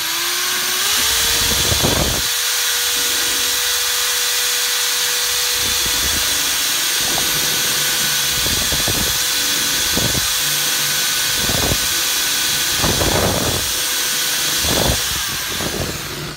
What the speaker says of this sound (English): I drag my drill across the bottom.